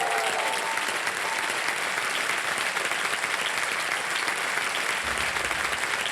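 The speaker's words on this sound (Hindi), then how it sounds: "जोरदार तालियां बज जाएं इनके लिए" Loud, dense studio audience applause roars steadily and without a break on a Hindi TV quiz show set, with no voices rising above it.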